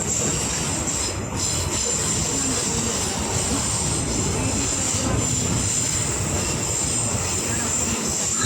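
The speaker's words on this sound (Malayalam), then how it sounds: "ട്രെയിനിൻ്റെ ട്രാക്ക് അങ്ങനെ ഒരച്ചൊന്നും ഒച്ച നമുക്ക് നല്ല രീതിയിൽ കേൾക്കാൻ പറ്റും" Wheels of the Parasuram Express grind and squeal on the track through a big curve between Ernakulam and Kanyakumari, heard from inside a general class coach. The roar is loud and continuous throughout, with a steady high whine.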